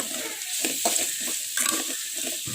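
Onions sizzle and fry in ghee and oil for a chicken pepper gravy, a steady close hiss broken by the scrape and clatter of stirring in the pan, with no talking.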